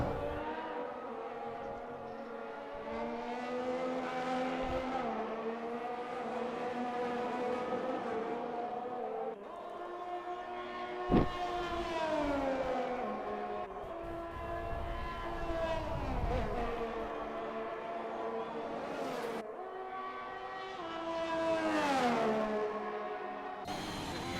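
Race cars in a racing game lap Silverstone with all drivers on soft compound tyres, engines whining steadily and rising and falling through gear changes as cars pass, with a brief thump midway.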